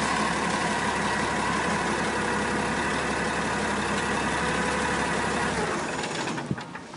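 A CNG-fuelled tractor truck engine idles steadily with a dense, even mid-range drone, then is switched off near the end and the rumble dies away.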